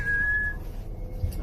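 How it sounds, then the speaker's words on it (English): A person whistles a clear sustained note inside a house, briefly held for about half a second and then fading, leaving a low rumbling room background. "He doesn't really like it when you whistle."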